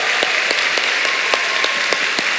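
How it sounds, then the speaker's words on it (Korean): Church congregation clapping at a Friday night worship service, a loud, sustained roar of applause with a few sharp individual claps standing out. "중동부 박수 한번 칩시다."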